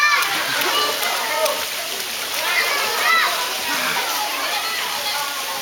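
Water splashes and sloshes steadily, close and fairly loud, with a continuous wet churn and a few brighter splatters while voices talk faintly in the background.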